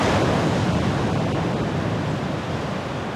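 Ocean surf at Pangandaran beach rolls in as a steady, loud, wide roar of breaking waves with no voices.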